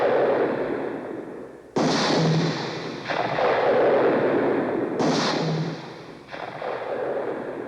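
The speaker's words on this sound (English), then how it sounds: "A bullet pierces Hopkinson's heart" Staged gunshot effects in a historical dramatization: a few sudden heavy booms, each followed by a long rumbling roar that fades slowly, loud and close.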